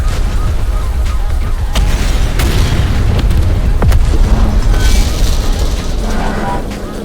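Explosives blowing up a station in the survival horror game Cold Fear: a loud, continuous rumbling roar with repeated booms and sharp cracks layered over it, heavy and close.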